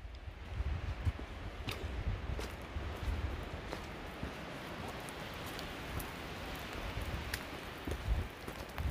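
Steady rain patters at night on a trail shelter in New Hampshire in mid October, with soft continuous drops and occasional sharper taps of water striking close by.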